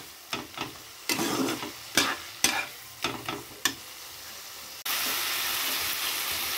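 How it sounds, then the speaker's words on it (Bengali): A paste of ground coriander and cumin is sautéed for a Bengali dal with prawns: a spoon scrapes the pan in quick sizzling strokes, then a loud, steady frying hiss takes over. "দিচ্ছি ধনের গুঁড়ো, জিরের গুঁড়ো। এবার ভালো করে কষিয়ে নেব।"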